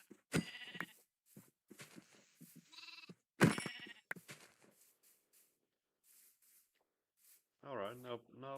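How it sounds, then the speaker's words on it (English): Sheep in the Minecraft video game bleat in a short wavering call near the end, following stretches of someone talking and scattered clicks. "There are a lot of sheep."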